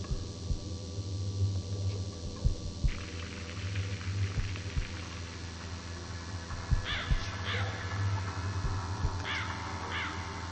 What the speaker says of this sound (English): Strange sounds recorded from the painting Tree of Crows.